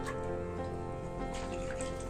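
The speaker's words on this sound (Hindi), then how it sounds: "कटोरी से आप पानी डाल लेंगे इसमें।" Water poured from a small bowl into a cow dung mixture for making a nameplate, a steady, close, moderately quiet splashing wash lasting a couple of seconds with no talk.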